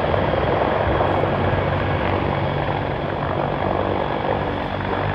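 A Sikorsky CH-53K heavy-lift helicopter with three GE-38 engines flies a display at the ILA Berlin 2018 air show, producing a loud, continuous, broad rotor and turbine roar that holds steady throughout.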